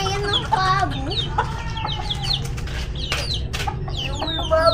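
A turkey calls repeatedly in a farmyard, a run of short, close, rising and falling squawks and clucks over a low background rumble.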